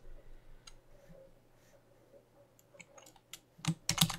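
A computer keyboard being typed on while writing a code comment in an HTML and CSS lesson: faint, sparse keystrokes give way to a few louder, closer clicks near the end.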